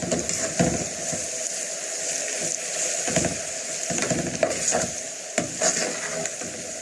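Onion coated in flour stirred and fried in hot oil in a pan, with a soft steady sizzle broken by repeated scraping strokes of the spoon, close and fairly clear.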